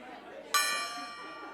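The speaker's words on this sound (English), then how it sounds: "it's my favorite part of the service is ringing the gong" A single metallic gong strike rings out bright and close during a church service, its shimmering tone slowly fading while faint murmuring voices continue in the background.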